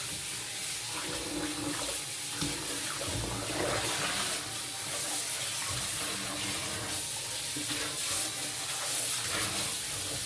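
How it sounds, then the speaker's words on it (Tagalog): Meat being washed under running water while cooking Juha soup, a continuous loud gush of tap water splashing into a basin, no voices. "Hugasan natin na maayos yung karne."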